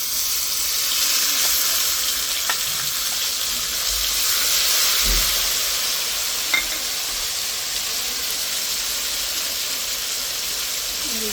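Potatoes fry in hot oil in a home kitchen as turmeric and chili are added, giving a steady close sizzle and hiss with a few faint clicks of stirring.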